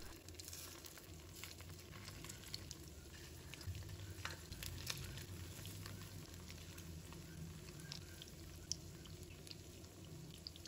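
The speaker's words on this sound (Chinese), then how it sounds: "油热之后把豆腐一块一块的放入锅中" Tofu pieces fry in hot oil in a wok over medium-low heat, giving a steady, moderate sizzle with light crackles throughout, no voices.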